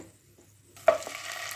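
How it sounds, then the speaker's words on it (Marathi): Cumin and mustard seeds dropped into hot oil, heard as a sudden sizzle that starts after a near-silent moment and keeps on as a steady crackling hiss, without talk. "आता हे तेल तापलेले आहे, यामध्ये जिरे मोहरी घालूया"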